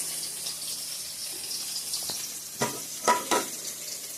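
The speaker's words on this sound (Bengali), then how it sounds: "দুই গ্যাসে ভেজে নিব মাছটা।" Fish frying in a pan on a gas stove gives a continuous close sizzle, broken by several louder spattering bursts near the end.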